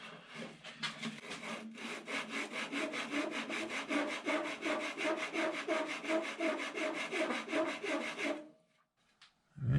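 Wood for a ship's wheel is sanded by hand in steady, rapid back-and-forth strokes, loud and close for about eight seconds before stopping abruptly, with no talking.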